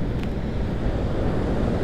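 Ocean surf and wind at Oxnard beach in California roar in a dense, continuous wash, loud and close, with wind buffeting the microphone and no voices.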